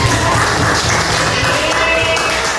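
Classroom pupils clap again for a student group, a brisk, continuous patter of hands with a faintly rhythmic pulse, close and fairly loud throughout.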